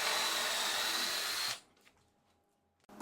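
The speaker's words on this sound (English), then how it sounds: "get out my doweling jig and drill some holes in the top for some 6mm" A power drill in a doweling jig bores 6mm dowel holes into a pallet wood tabletop, giving a loud, steady whine for about a second and a half before cutting off into near silence.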